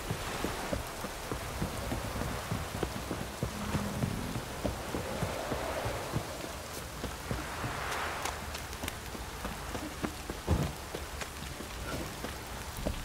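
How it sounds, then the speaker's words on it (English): Heavy rain in a downpour patters and splashes on surfaces nearby, a steady hiss broken by irregular louder drips and taps, with no voices. "This downpour's a bastard,"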